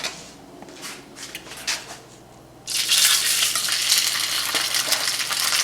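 Polenta sizzles loudly in a hot frying pan, a sudden burst of steady frying hiss after a few soft scrapes and clinks.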